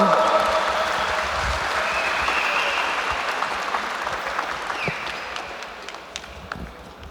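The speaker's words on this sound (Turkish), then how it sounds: "Evet sonucu açıklamadan önce her iki sporcumuza da büyük bir alkış alabilir miyiz?" A crowd at a Muay Thai fight event applauds both fighters before the result is announced, loud, dense clapping that slowly fades over several seconds with scattered sharper claps near the end.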